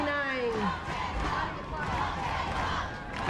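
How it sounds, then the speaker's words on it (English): A Lincoln crowd chants loudly at a football game, a sustained roar of many voices rising and falling, with one shout standing out at the start. "And the Lincoln crowd chanting"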